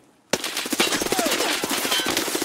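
Video game gunfire: after a brief silence, a loud, rapid burst of automatic shots rattles on continuously, close and harsh.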